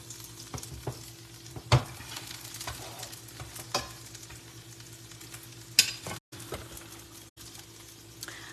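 Patty melt sandwiches frying in butter give a low, steady sizzle with a few sharp taps and scrapes, likely from a spatula, and a short gap near the end.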